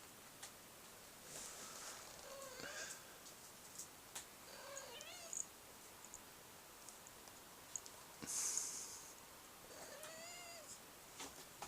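A kitten meows several times in small, rising calls close to the microphone, spread across a quiet room and mixed with faint clicks, ticks and light rustling, with no one talking.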